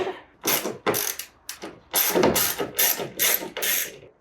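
Ratchet driving a T30 Torx bit on a long tool loosens a bolt on a Ford Transit sliding door track, a run of loud, close clicking bursts in quick repeated strokes with short pauses between.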